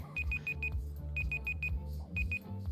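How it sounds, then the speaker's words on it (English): A timer alarm beeps in rapid groups of four, then two, shrill and steady over a low rumbling background hum, with no voices. "timer's off."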